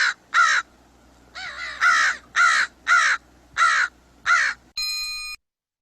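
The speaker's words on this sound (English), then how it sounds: "The typical crow is a little bit higher pitched." A crow gives a run of about seven harsh, fairly high-pitched caws in a steady rhythm, close and loud. A brief electronic tone closes the sequence.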